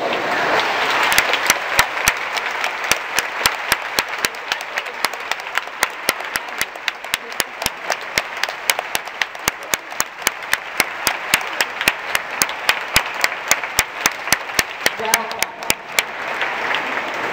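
A large audience at a Yale Pathways to Science orientation claps steadily for new students, a loud, even wash of applause lasting throughout, with sharp individual claps standing out on top.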